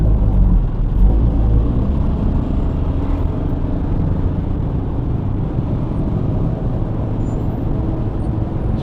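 Intercity and interprovincial buses rumble past on a road at Jambu Air, a steady, loud low engine drone that continues throughout with no talk.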